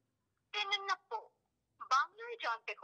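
Speech-like audio plays through a Fire-Boltt InfinClip 2 calling smartwatch's small built-in speaker during a call test, two short bursts of a voice separated by a pause, fairly clear and alone.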